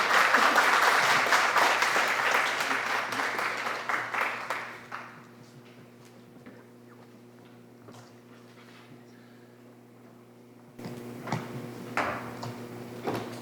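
Audience applause welcoming a lecturer at a leadership coaching talk, fairly loud at first and then tapering off into a quiet room with a steady hum, followed by a brief return of scattered noise near the end.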